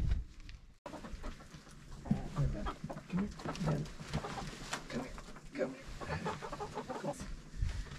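Chickens cluck and chatter in short bursts nearby, with a steady low hum underneath and faint voices mixed in.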